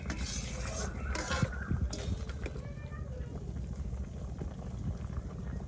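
Potatoes bubbling in a pot for a small-fish curry, village cooking in Hatiya, a steady close simmer of liquid boiling with scattered clinks and low background noise throughout.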